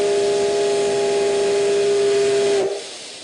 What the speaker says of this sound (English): A steam locomotive runs through the hills of Iwate Prefecture.